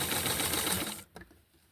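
Sewing machine stitching fabric for doll clothes from a Francie McCall's 8531 pattern, running steadily and fairly loud for about a second, then stopping abruptly, followed by a brief faint clunk.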